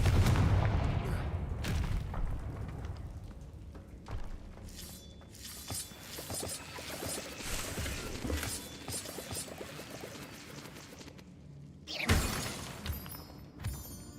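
Spell blasts and shattering crashes from a Harry Potter wizard video game, several sharp bursts and booms spread across the stretch, with a loud impact near the end and softer clatter between.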